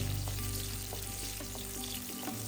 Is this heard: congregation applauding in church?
no